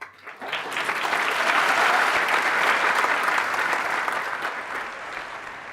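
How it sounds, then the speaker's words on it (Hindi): An audience at a talk breaks into applause, a dense, loud burst of clapping that swells quickly, holds steady for several seconds and then tapers off slightly. "अब जब मैंने ये बोला, आपने तालियां बजाई"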